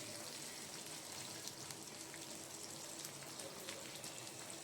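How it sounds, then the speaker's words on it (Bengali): Fenugreek seeds, black cumin and slit green chillies sizzling in hot oil for a Bengali rohu and eggplant curry, a steady soft crackling hiss throughout, faint and even. "এক চামচ মেথি এক চামচ কালো জিরে আর সাত আটটা কাঁচা লঙ্কা চিড়ে রেখে দিয়েছিলাম সেটা ফোড়ন দিয়ে দিলাম"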